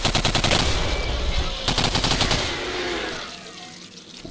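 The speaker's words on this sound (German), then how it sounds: "bist du fertig mit dem rumgeballert?" Rapid automatic gunfire in the shooter game Singularity, a loud continuous rattling stream of shots that fades and thins toward the end, with no talking.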